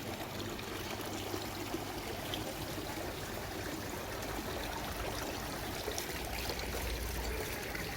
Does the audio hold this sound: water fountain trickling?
yes